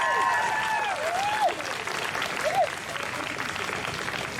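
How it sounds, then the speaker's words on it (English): Applause from a crowd at an outdoor trans pride march in Melbourne, a steady wash of clapping heard from a distance with whoops and cheers rising over it and a few brief voices. "Give a big round of applause."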